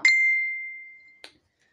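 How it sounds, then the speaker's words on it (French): A mobile phone gives a short electronic ring: one bright chime that rings out and fades over about a second, followed by a second brief blip, heard alone in a quiet room. "c'est le portable qui sonne."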